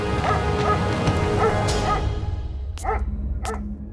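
A pet dog shut inside a bathroom gives a few yipping barks and whimpers, muffled and somewhat distant behind dramatic background music.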